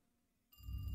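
A telephone in The Devil's Route video game begins ringing abruptly about halfway through, a loud bright electronic ring that cuts in after near-silence and continues to the end.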